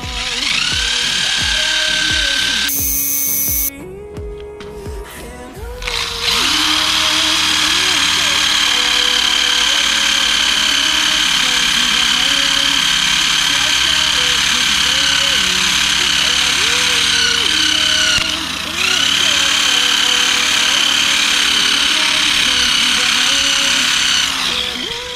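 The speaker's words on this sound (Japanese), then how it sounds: "ブルーマジックをちょっとつけてそのまま機械で磨いていきます" A handheld polishing machine buffs the metal of a Zephyr 750 motorcycle with Blue Magic compound, a steady loud whirring hum lasting throughout after a brief start-up with a short pause and a dip midway.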